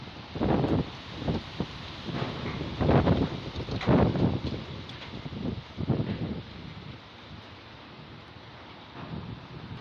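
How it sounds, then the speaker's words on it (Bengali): Strong, gusty wind ahead of a storm rustles leaves in repeated bursts, loud surges with buffeting against the microphone between quieter lulls, no talking. "শুধু বাতাস আর বাতাস"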